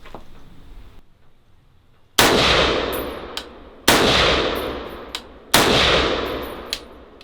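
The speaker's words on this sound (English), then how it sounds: "I'm just going to show you the controlled shooting now." Three loud, sharp rifle shots from an M305, a Chinese M14 clone, fired at steady intervals of about a second and a half outdoors, each followed by a long ringing decay and a faint metallic ping after the report.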